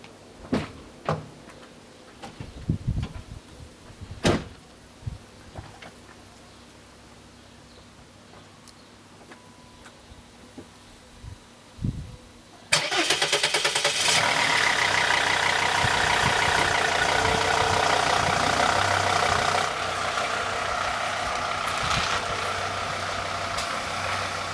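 A 4x4 vehicle before a road test: scattered knocks and a door shutting, then the engine catches and settles into a steady, loud idle that carries on to the end.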